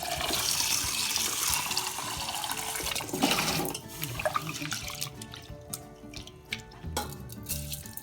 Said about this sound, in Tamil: 2-3 தண்ணி கழுவணும். இன்னொரு தண்ணி.